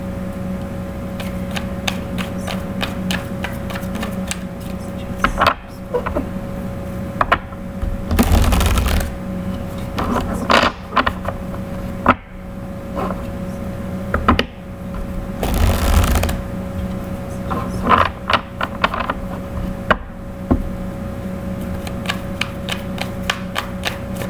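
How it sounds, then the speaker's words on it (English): Repeated riffling and shuffling of tarot cards, bursts of crisp fluttering slaps recurring through the clip, close up and fairly loud. "give me just a moment here while I shuffle"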